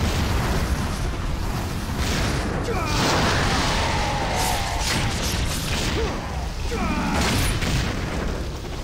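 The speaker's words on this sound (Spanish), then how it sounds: "Me ponen explosiones de todo lo que me están aventando" Explosions in the video game Ninja Gaiden 2 keep booming and crackling in a dense, continuous barrage of blasts and combat effects, loud and layered, with a player talking over them.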